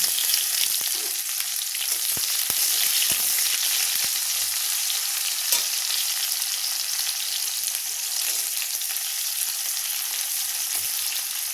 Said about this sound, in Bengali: এখানে পেঁয়াজটা ভাজা হয়ে গেছে